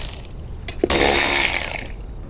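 An 8mm socket ratchet backing out license plate screws on a Ford Maverick, a short dense burst of rapid pawl clicking after a few scattered taps, close and loud with no talking.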